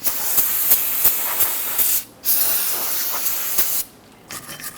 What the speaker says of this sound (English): spray it down with some spray solvent